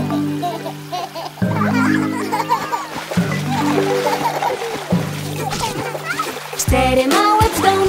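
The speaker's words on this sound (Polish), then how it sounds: "Cztery brzdące w basenie pluskają teraz się." Children splashing in a swimming pool in an animated children's song, quick watery splashes and sloshing mixed under a sung melody with voices and backing music throughout.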